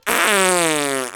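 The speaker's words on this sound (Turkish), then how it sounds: "Bir yerden osuruk sesi geldi." A single loud, buzzy fart sound effect from the video game Minecraft, about a second long, starting abruptly and sliding slightly downward in pitch before cutting off.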